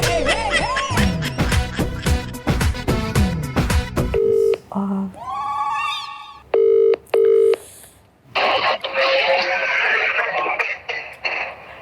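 A rapid series of telephone keypad beeps, then several separate tones and ringing signals with short gaps and some background noise.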